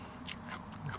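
A fresh crunchy cucumber is bitten into, giving a few quick faint crisp snaps and soft chewing close by with no talk.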